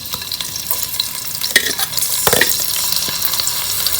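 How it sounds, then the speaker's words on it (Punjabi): Green chilies sizzling in hot mustard oil in a pan, a steady broadband fry hiss with a few sharp spatter bursts and stirring clatters, close and fairly loud, no talk. "ਆਪਣਾ ਤੇਲ ਗਰਮ ਹੋ ਗਿਆ ਜੀ ਹੁਣ ਆਪਾਂ ਇਹਦੇ 'ਚ ਹਰੀ ਮਿਰਚ ਪਾ ਦਾਂਗੇ"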